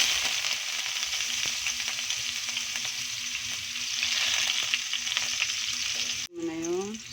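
Ginger hitting hot cooking oil for a spicy squid dish, a continuous bright sizzle up close, cut off abruptly near the end by a brief different noise.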